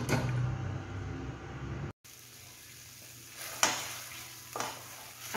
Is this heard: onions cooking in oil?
yes